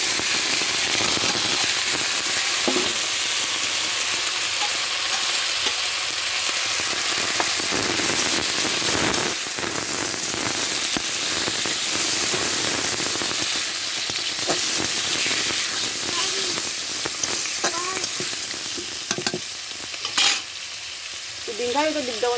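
Onion and garlic sizzle and crackle in a frying pan with salt, ground cumin and pepper, a loud steady fry with occasional stirring scrapes throughout.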